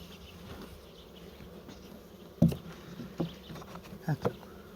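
Honeybees hum steadily at an open hive during a varroa mite treatment, a low continuous drone with a few soft knocks and thumps as the hive is handled and closed.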